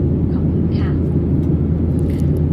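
Steady, loud cabin roar inside a passenger airplane approaching landing on a flight from Trang to Don Mueang, a constant engine and airflow drone with faint voices under it.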